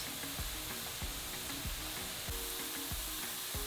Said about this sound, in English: I'm going to let this cook until the onions are translucent.